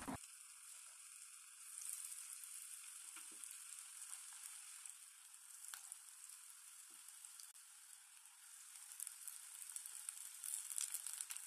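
Onion rings frying in oil over a medium flame, a faint continuous hiss and crackle of bubbling oil, steady throughout with occasional soft pops and no talking.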